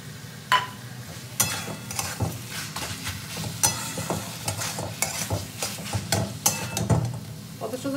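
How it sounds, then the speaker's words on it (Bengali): Rice flour being stirred into water for a Bengali bathua-greens ghonto, a steady close scraping swirl with intermittent clinks of utensil against bowl over a faint background sizzle, no talking. "তো চালের গুঁড়িটা আমি গুলে নেবো।"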